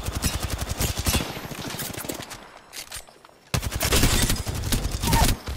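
Rapid video game gunfire as a player shoots an enemy in midair, dense bursts of automatic fire crackling loudly through most of the stretch, dropping briefly to a quieter gap before another heavy volley resumes.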